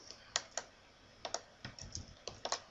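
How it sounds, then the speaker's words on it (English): Typing on a computer keyboard, a string of sharp, close key clicks in irregular bursts with short pauses between them, heard alone. "You can just type."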